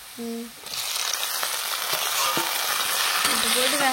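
Onion, garlic and tomato sizzle in hot oil in a home kitchen, a steady close frying hiss with scraping stir strokes, after a brief dull tap at the start.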